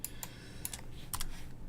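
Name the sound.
key pressed on a computer keyboard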